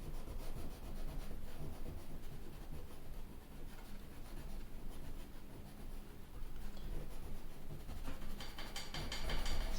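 A pencil scrubs dark shading onto paper while drawing conifers, a steady close scratchy rubbing that runs continuously and grows slightly louder toward the end.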